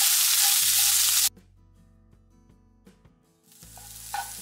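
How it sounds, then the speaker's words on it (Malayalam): Onions sautéing with salt in a pan for a dhaba-style chana dal curry: a loud, dense sizzle that cuts off abruptly, leaving a gap filled by music, then returns more softly near the end. "ഇതൊന്ന് വഴറ്റിയെടുക്കാം."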